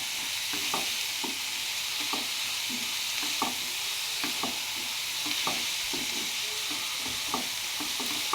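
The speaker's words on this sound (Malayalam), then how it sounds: "നന്നായി ഇളക്കി കൊടുക്കാം." Onions frying in a pan with a steady sizzle, while a utensil stirs them in repeated soft scraping knocks spread evenly through the clip.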